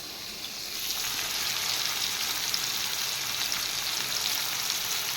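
Onion and tomato paste for chana dal curry sizzling in a pan, a steady hissing fry that swells after the first second and stays even and close, with no voices.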